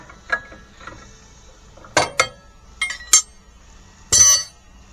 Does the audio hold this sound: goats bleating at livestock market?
no